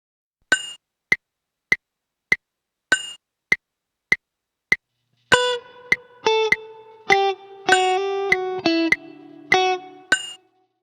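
A short phrase from a Spanish-style guitar tune: a run of crisp plucked staccato notes, then ringing notes with hammer-on and pull-off slurs, played alone and close.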